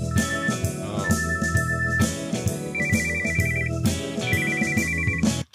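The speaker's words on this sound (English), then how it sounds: "someone's cell phone goes off in the middle of the concert" A cell phone ringtone goes off in the middle of a concert, a loud repeating electronic melody of bright beeping tones over the music, cutting off abruptly at the end.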